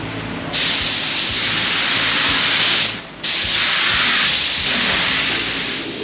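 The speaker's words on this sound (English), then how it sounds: "Slick Rick starting on a second coat" A spray gun lays a second coat of white paint on a 1981 Chevrolet C10 truck, giving loud, close hissing bursts with one short pause between two long sprays and no talking.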